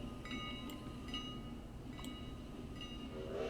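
A passenger train pulls into Whittier in the railroad simulation game Railroader, a faint, steady rolling hum with a few brief tonal accents over it.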